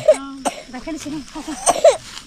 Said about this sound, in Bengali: কাশি হচ্ছে বাচ্চাটা।